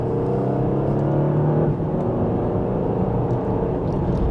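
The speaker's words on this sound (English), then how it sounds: "And just a minor acceleration, we're up to speed." Engine of a 2026 Porsche Panamera 4 E-Hybrid pulling hard in second gear in Sport Plus mode, heard from inside as a steady, loud, rumbling whir with no talk.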